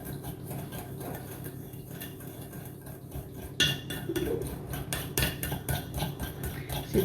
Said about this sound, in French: je vais juste mélanger déjà ça à la cuillère magique pour bien incorporer toutes les poudres.